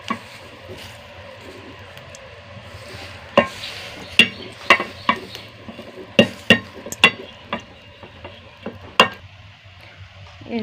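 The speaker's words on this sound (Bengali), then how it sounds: "ওর মধ্যে আমরা কলমি শাকটি ভাজবো।" Water spinach (kalmi shak) stir-fried in a pan in a village kitchen, a low sizzle under a series of sharp spatula scrapes and knocks, a dozen or so irregular clacks.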